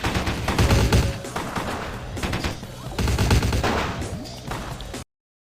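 Repeated gunfire bursts in Vampire: The Masquerade – Bloodlines, loud and close, with dense volleys of rapid shots and crashes filling the whole stretch before cutting to silence.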